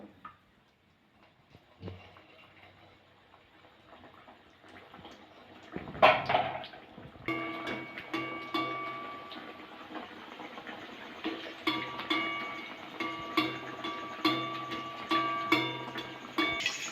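Flour patties sizzle in hot oil in a wok over a gas flame, giving a quiet crackle that swells after a sudden splashy burst and then continues as irregular popping and spitting.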